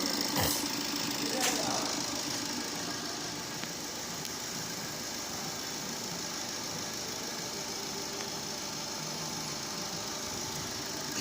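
Car engine held at steady revs during a turbo manifold carbon cleaning, a continuous loud mechanical drone with rattling texture filling the whole stretch, a couple of brief sharp clicks near the start.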